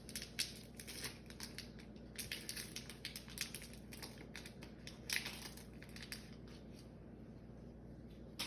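Sterile dressing packaging is opened by hand for a central line dressing change, giving quiet, irregular crinkles and rustles of paper and plastic in a hushed room.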